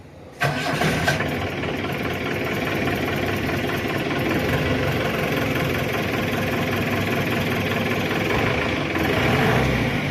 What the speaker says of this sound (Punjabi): ਜੀਪ ਦਾ ਹੀ ਜਿਹੜੀ ਆਵਾਜ਼ ਆ ਤੁਹਾਨੂੰ ਆਵਾਜ਼ ਵੀ ਸੁਣਾਉਣੀ ਆ